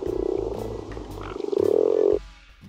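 A recorded frog call plays back in a wildlife app, a close series of low, pulsing croaks building into a longer trill before cutting off.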